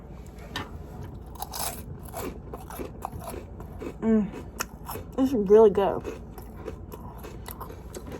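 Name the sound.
crunching and chewing nachos with ranch and guacamole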